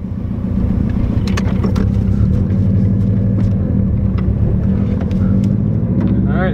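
Car with an Invidia full exhaust and a Cobb Stage 2 tune, its engine droning steadily and loud from inside the cabin as it accelerates, with a faint turbo whistle rising near the end.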